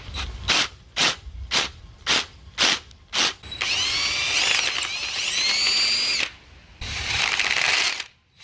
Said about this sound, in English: To get this Ninja 300 front axle to fit into the Hawk 250's forks, you have to drill through them with a 9/16 drill bit.